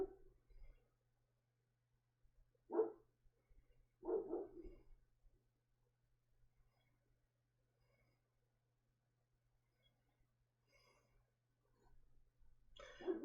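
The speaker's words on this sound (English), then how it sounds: "Apparently the dog got let out. And he's gonna be barking for a bit, so y'all are gonna hear that." A dog barks in a few isolated, muffled bursts, spaced seconds apart with near silence between them, fairly faint and distant.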